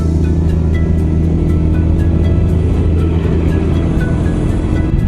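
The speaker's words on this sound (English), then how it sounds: "this is a truck full of beer Lao" A loaded truck carrying Beer Lao rumbles past on a road in Laos, a steady, loud, low engine drone held close and continuous throughout, with no voices over it.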